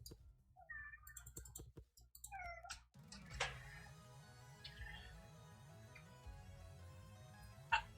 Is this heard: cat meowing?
yes